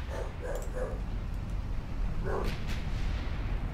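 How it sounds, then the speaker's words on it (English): A pet dog named Millie barks a few times in the background, short yaps in two bursts, fairly distant under a steady room hum. "Sorry if you can hear my dog in the background."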